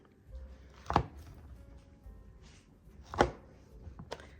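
A knife cuts through Cool Whip fudge in a 7-inch pan, making two or three close, distinct chopping knocks against the pan with quiet pauses between.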